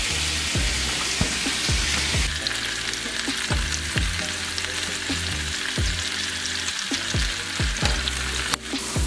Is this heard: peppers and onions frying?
yes